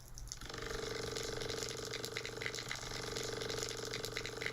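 Water flowing steadily through a low-frequency vibration experiment driven by a 24 Hz tone, a constant close rushing wash overlaid with a droning hum throughout.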